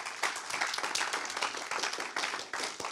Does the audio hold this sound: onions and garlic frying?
no